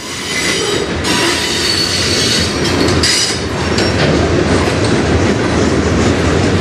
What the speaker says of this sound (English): There's another train. That's an industrial train.